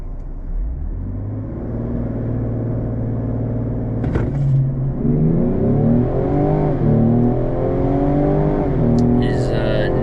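A Ford Explorer ST accelerates hard from a standstill on a quarter-mile run, its engine rising in loud rumbling pitch sweeps through several gear shifts, heard from inside the cabin.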